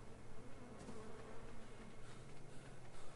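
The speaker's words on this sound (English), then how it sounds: "Bees." Bees buzzing continuously in the survival game ARK, a dense, droning hum that stays close and fairly even throughout.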